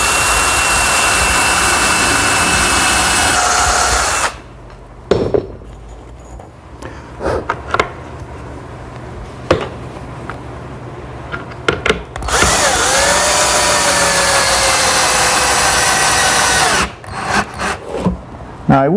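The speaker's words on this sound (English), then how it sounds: "I'll pre-drill 2 holes for those special fasteners that we used" A power drill pre-drills two holes in wood in a workshop, with loud sustained high-pitched whirring bursts at the start and end separated by a quieter stretch of scattered clicks and handling knocks.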